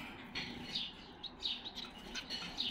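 Bengalese finches, black and pied varieties, chirp in short high tweets scattered irregularly over a quiet background, close but soft, with a faint flutter of movement between calls.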